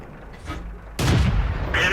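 Heavy tank cannon fire in World of Tanks, with an MT-25 and a Type 59 in the fight: a loud broadband blast about halfway through, followed by a sustained roar and a second burst near the end.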